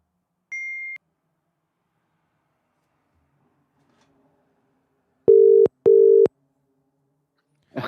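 A phone call being placed back: a brief electronic tone, a stretch of silence, then two steady ringback tones in a row, clean and close, with no talking over them.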